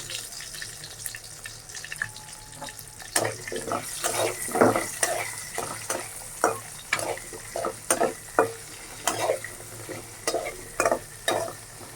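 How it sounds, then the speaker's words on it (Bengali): Potatoes frying in hot oil with salt and turmeric, a steady sizzle under repeated close stirring clatters that grow sharper and more rhythmic partway through. "এখন আমি তেলের ভিতর আলু দিয়ে দিব তো আমি ভেজে নেব সাথে একটু লবণ দিয়ে দিব আর একটু হলুদ দিয়ে দিব"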